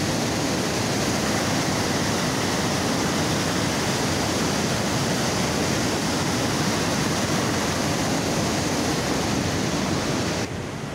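Fast-flowing water rushes through a dam near Sirsa, a loud, unbroken roar of churning water close by that stays steady and powerful throughout, dropping slightly only at the very end.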